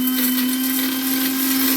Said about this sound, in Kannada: ಇವಾಗ ಏನೇನು ಸಾಮಗ್ರಿಗಳೆಲ್ಲ ಫ್ರೈ ಮಾಡ್ಕೊಂಡಿದ್ದೀನಿ ಅದನ್ನೆಲ್ಲ ರುಬ್ತಾ ಇದ್ದೀನಿ